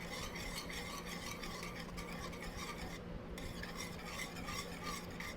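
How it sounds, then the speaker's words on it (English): Minced garlic is stirred into a cheesy bread mixture in a bowl, a steady, soft scraping and swishing that carries on evenly throughout, quiet and close. "Give it a nice little stir again"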